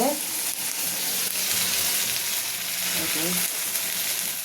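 Pigeon meat frying and braising in a pan with a little tomato sauce, a steady close sizzle running throughout with a few soft stirring scrapes.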